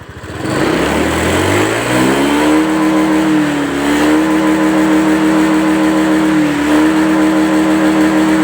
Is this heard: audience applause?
no